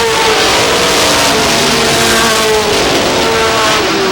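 Stock cars race at Star Speedway in New Hampshire, a loud, continuous engine roar from cars running nose to tail, with a rising and falling whine as they pass close by.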